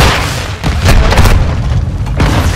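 A loud, close grenade blast in Call of Duty: Modern Warfare II multiplayer on the Embassy map, a heavy booming explosion with a rumbling tail, followed by another deep burst as the chaos continues.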